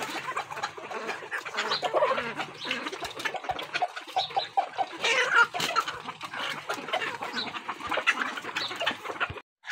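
Sonali hens at an egg farm cluck and squawk continuously, a busy overlapping chorus of many birds close by with no pauses, ending abruptly.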